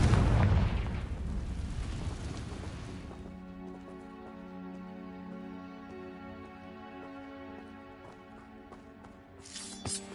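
Confringo spell explosion in Hogwarts Legacy, a loud booming blast at the start that rolls off into a long fading rumble under steady game ambience.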